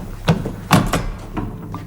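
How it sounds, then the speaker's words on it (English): A heavy door being pulled shut in a tunnel setting, heard as a couple of solid thumps and a clunk followed by softer knocks, fairly close and without speech. "Get the door closed."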